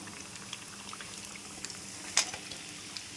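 Fish pieces fry in oil with a low, steady bubbling sizzle and scattered faint pops, plus one sharper crackle near the end.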